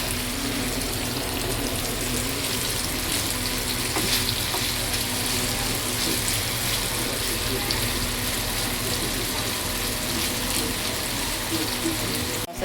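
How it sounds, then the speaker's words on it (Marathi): Paneer cubes sautéing in a pan, a steady, even sizzle filling the whole stretch, close and moderately loud with little variation. "पनीर क्यूब्स ॲड करते आता हे. आणि हे ॲड थोडंसं परतते चांगलं"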